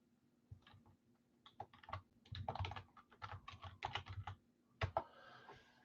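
Someone types steadily on a computer keyboard, a close, quiet patter of irregular key clicks in bursts, ending with a couple of sharper taps.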